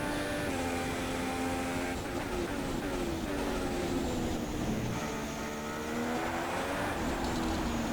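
A Formula One car in the F1 2016 racing game lapping Silverstone, its engine a steady, loud high-pitched whine that rises and dips through gear changes and corners, heard alone throughout.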